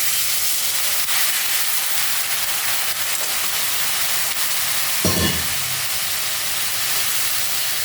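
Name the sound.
water added to cauliflower curry, sizzling and steaming in pan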